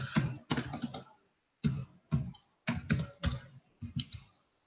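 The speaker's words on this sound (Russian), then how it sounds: "мы вводим логин и пароль" Someone types a login and password on a computer keyboard up close. Clear bursts of key clicks come in short groups separated by brief pauses, with no talk.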